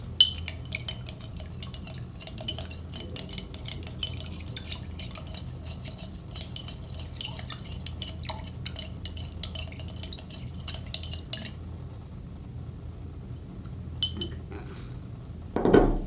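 Sugar solution for rock candy being stirred in a container, a spoon ticking and scraping against the sides in a fast repetitive rhythm for about eleven seconds before stopping, followed by quiet and a brief handling knock, close and fairly soft.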